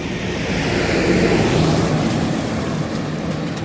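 A tractor passes close by outdoors, producing a loud, steady, roaring engine rumble mixed with wind-like noise that holds throughout, with no one talking.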